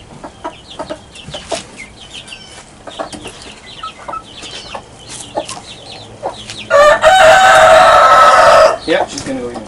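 Hens and a rooster in a backyard coop with baby chicks cluck in scattered, soft bursts, then one loud crow rings out near the end, with a person talking faintly in the background.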